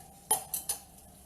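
Three sharp clinks of a utensil against a bowl while zucchini fritter batter is stirred, evenly spaced and close, over a quiet background with no talking.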